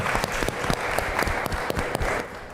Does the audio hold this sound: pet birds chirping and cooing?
no